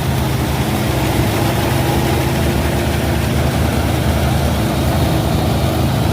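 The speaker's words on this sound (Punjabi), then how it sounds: "ਸਾਰਿਆਂ ਤੋਂ ਵੱਧ ਸਵਰਾਜ ਟਰੈਕਟਰ ਚੱਲਦਾ ਤੂੜੀ ਵਾਲੀ ਮਸ਼ੀਨ ਨੂੰ" A Swaraj 855 tractor engine drives a straw-making machine in a field, producing a steady, loud, continuous low drone with a dense mechanical whir layered on top. The drone and whir carry through the whole stretch without a break.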